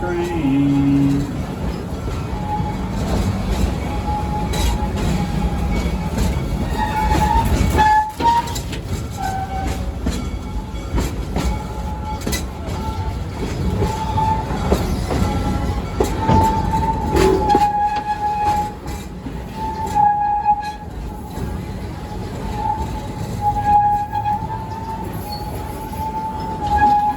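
A Serengeti Express train rolls through Busch Gardens Tampa Bay with a steady loud rumble and rattle heard from on board. Faint wheel squeals and a whining tone recur over the constant motion noise.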